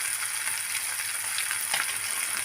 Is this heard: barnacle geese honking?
no